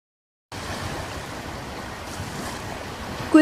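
Ocean waves roll onto the shore at Quy Nhon beach in Vietnam, making a steady, broad wash of surf that holds at an even level throughout, with no voices.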